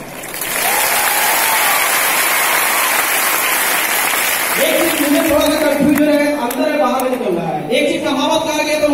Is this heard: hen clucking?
no